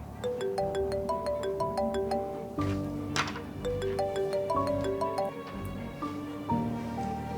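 A phone ringtone for an incoming call from a friend plays a bright, repeating electronic melody of stepped tones, loud and close, looping steadily with no voices.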